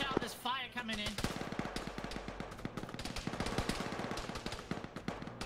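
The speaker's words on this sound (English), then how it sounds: "Watch out, there's fire coming in." Incoming gunfire in an Arma ShackTac multiplayer session: rapid bursts of automatic rifle and machine-gun shots crackle continuously, some sharp and near, others distant, over a short stretch with brief voice chatter at the start.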